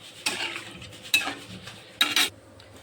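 Turmeric, cumin and green chilli stirred into a pan for a South Indian dosa filling: three short scraping stirs with a utensil against the pan, each burst brief and clear, with a faint hiss between them and no talk.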